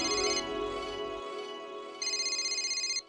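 A mobile phone rings with a bright melodic ringtone, a repeating tinkling tune that pauses briefly and then resumes loudly before cutting off, close by and with no talk over it.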